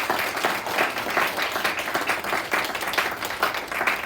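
Audience applause at a summer music recital, a steady dense wash of many hands clapping that holds evenly throughout at moderate loudness, with no talking over it.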